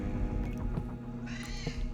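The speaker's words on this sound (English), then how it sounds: "Cat. There's a cat." A house cat meows a few times, fairly close and clear, with short drawn-out calls over a low steady background hum and no talk.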